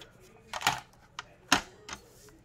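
Paper trimmer cutting card stock for an envelope and card project, heard as a few short, sharp slicing and clicking sounds close by, spaced about a second apart.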